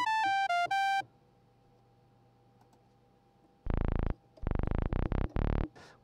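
An S3K synthesizer plays plain tones: a quick run of four short pitched notes, a quiet pause with faint hum and clicks, then a series of louder, buzzy held notes separated by brief gaps.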